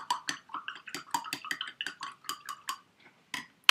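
Aloe vera mixture is stirred in a container, giving a close series of irregular clinking, scraping knocks from the utensil against the sides, some rapid and some spaced out, with a sharp final clack.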